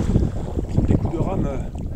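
Canoe paddle strokes push through the water on a lake trip in Germany, with several rhythmic splashing pulls close by, mixed with gusty wind buffeting the microphone.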